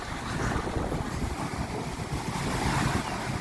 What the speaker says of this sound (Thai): วันนี้ค่อนข้างลมแรงค่ะ